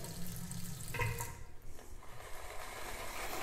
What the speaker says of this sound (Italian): Andiamo ad aggiungere ancora un po' di acqua, sempre calda e sempre con il metodo a pioggia